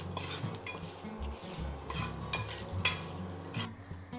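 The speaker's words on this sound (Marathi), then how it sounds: "कढीपत्ता, तर हे चांगलं परतून" Curry leaves sautéing in a pan, with a low steady sizzle under repeated scraping and stirring sounds of a utensil against the pan, close and fairly quiet.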